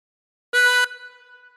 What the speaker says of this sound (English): Blow into four twice.